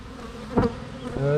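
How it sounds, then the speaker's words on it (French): Honeybees buzz close by at a spring hive, with foragers returning loaded with pollen, a steady loud drone with a brief louder pass. "vous allez peut-être voir certaines abeilles sur certaines butineuses chargées de pollen"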